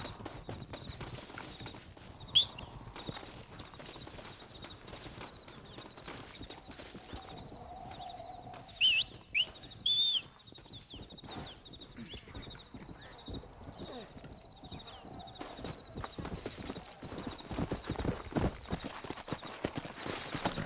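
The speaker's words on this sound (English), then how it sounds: "Looks like Carlos left us some horses." Horse hooves clatter steadily on hard ground amid Red Dead Redemption game ambience, with a couple of brief louder bursts and a horse whinny partway through.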